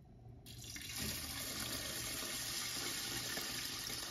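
Water pours steadily into a rice cooker pot in a home kitchen, starting after a brief quiet moment and continuing as a close, even splashing stream.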